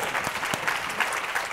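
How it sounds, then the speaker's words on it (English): An audience at a student mental health panel breaks into a brief burst of dense, steady applause, with no talking over it. "she deserves a round of applause"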